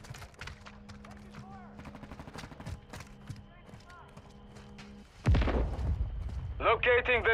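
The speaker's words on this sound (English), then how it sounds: "You're shooting at friendlies!" Gunfire rings out in a Call of Duty multiplayer match, rapid shots crackling in bursts under in-game voice radio chatter, then a loud heavy barrage near the end.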